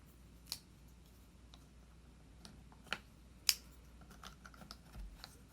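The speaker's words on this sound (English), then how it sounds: "I got one of the flat pieces of Lego because I can click things on there" Small plastic LEGO pieces click onto a flat LEGO plate, giving a few sharp, faint, isolated snaps spaced seconds apart against a quiet room background.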